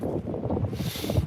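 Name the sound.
strong wind blowing into microphone outdoors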